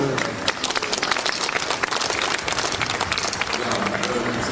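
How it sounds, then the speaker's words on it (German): Steady, loud audience applause at a sports event in Schwerin, a dense wash of clapping holding from start to finish, with crowd voices mixed in. "Applaus!"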